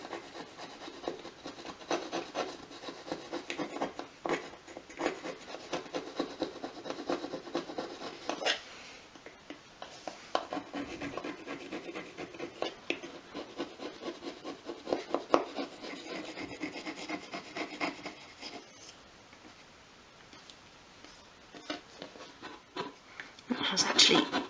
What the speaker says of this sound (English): Use my little flathead chisel, see if we can get that off yet.